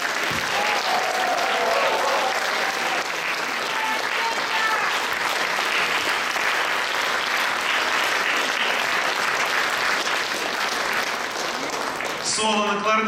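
Sustained audience applause for violinist Alexei Rozov at a klezmer ensemble concert, dense and steady throughout, with a few voices calling out beneath it and a short burst of sharper clapping near the end.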